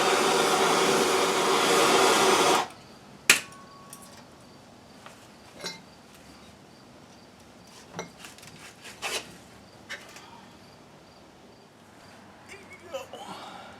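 Hot air blower heating a 3D printed bumper filler plate for a 1986 Oldsmobile over a 5-gallon drum, a loud broadband rushing roar for under three seconds, then stops, followed by scattered light clinks and handling noises.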